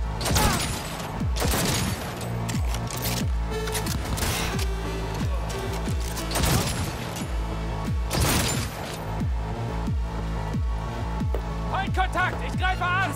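Combat gunfire in Cyberpunk 2077, repeated heavy shots and booming impacts in a rhythmic series over a music bed, with voices calling out during the firefight.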